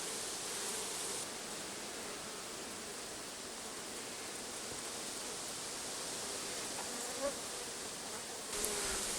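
Bees buzz densely around an open hive during an inspection, a steady close hum of many insects with faint handling noises beneath it.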